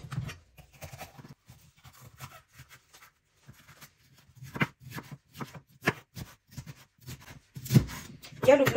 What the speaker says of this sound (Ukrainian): І перчика теж порізав.